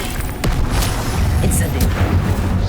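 An Expelliarmus spell cast in Hogwarts Legacy on PS5 Pro bursts with a deep boom and a sharp crack, with shimmering magical flares and a voice over the game's effects.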